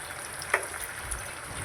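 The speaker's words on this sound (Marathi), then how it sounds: "आता आपण ह्याला व्यवस्थित तळून घेत आहे" Dal bati dough balls deep-fry in hot oil, giving a faint, steady sizzling hiss with a few soft pops.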